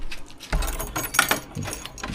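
A short burst of keys jangling and clinking together nearby, a few quick metallic rattles over about two seconds.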